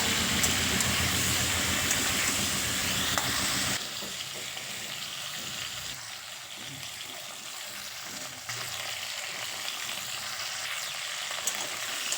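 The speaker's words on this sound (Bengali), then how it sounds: "তেলটা গরম হয়ে গেলে একে একে সবজিগুলো দিয়ে ভালো করে ভেজে নেব" Mixed winter vegetables, including potato, eggplant and long beans, fry in hot oil in a wok. A strong, dense sizzle fills the first few seconds, then settles into a quieter, steady crackle.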